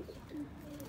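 Sialkoti pigeons coo softly in a short low burble, faint and close, with no talking.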